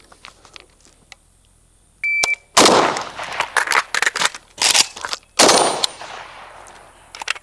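AK rifle fired in a reload drill: a shot-timer beep, then loud, sharp close rifle shots in uneven bursts, with more beeps, quiet pauses and mechanical clicks between strings.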